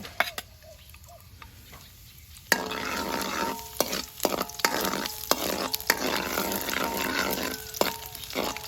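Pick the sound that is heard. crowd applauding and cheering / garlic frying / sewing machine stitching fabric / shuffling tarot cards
garlic frying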